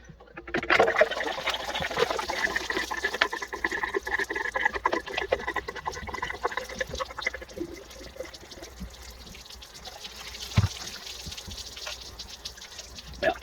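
Antifreeze draining from a boat generator's fresh water pump, a close trickle and pour of liquid that runs steadily and then thins to drips and light splashes.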